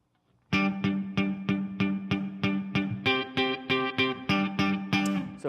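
Electric guitar power chords played through distortion, a steady rhythmic run of loud, crunchy strummed chords that start abruptly and repeat evenly, with no talking.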